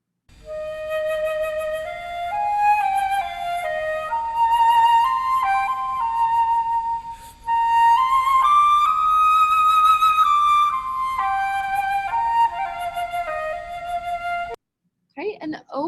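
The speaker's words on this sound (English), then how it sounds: "Here is the flute." A solo flute plays a slow, smooth melody of sustained, breathy notes with gentle vibrato, close and clear, with a brief pause midway and a short burst of other sound at the very end.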